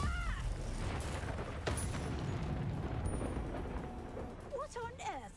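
A Confringo fire spell blasts in Hogwarts Legacy, a rumbling fiery explosion with crackling bursts over a busy battle, with voices shouting and squealing during the fight.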